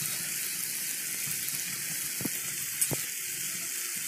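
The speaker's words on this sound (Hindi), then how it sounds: "अब मैं इसमें नूडल्स ऐड कर रही हूँ" Noodles added to a hot pan for veg Hakka noodles after soy sauce, a faint steady sizzle with a couple of soft stirring knocks, no talking.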